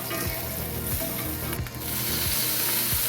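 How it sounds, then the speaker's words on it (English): Tomatoes sautéing in butter in a pan give a steady, close sizzle and crackle, with a few faint utensil taps against the cookware. "saute them a little bit and set them aside"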